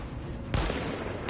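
Two sharp sniper rifle shots in The Division game crack out about three-quarters of a second apart, loud and close against a steady gritty background.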